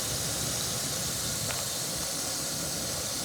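Country fried steak frying in a pan makes a steady, moderately loud sizzle and hiss throughout, with one faint tick partway through and no talking.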